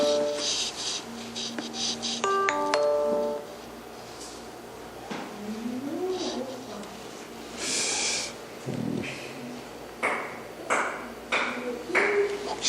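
A mobile phone ringtone sounds as a short melodic series of tones during a church worship service, then fades into room murmur, faint shuffling and sniffs.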